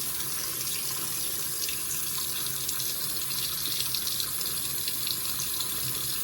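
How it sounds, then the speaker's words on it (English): Steady rushing of water pouring from a tap into a sink, constant and close, with no talking. "Okay. Hot water does work. Just takes a while"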